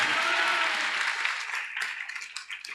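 A church congregation claps, starting as a dense, loud burst of applause that gradually thins into scattered individual claps.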